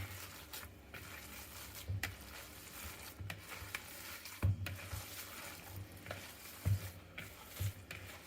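Bread soaked in milk and cream being worked together in a bowl for Italian meatballs: soft, wet squelching and mashing with irregular dull knocks against the bowl, quiet and close, with no talking.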